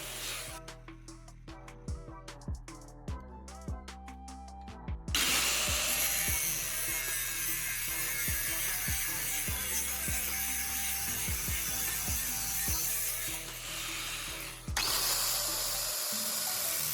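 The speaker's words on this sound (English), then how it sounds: "I'm now securing the pipe in the vise and using the angle grinder to cut a precise slot into the end" An angle grinder cuts a slot into the end of a metal pipe held in a vise, a loud continuous grinding roar that starts a few seconds in, steadies, and breaks briefly near the end, following some lighter clanking handling sounds.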